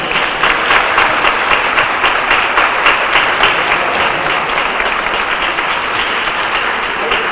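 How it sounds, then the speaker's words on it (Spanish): An audience at a talk on osteoporosis gives loud, sustained applause, with dense, steady clapping close by. "Así que yo quiero que lo aplaudan mucho."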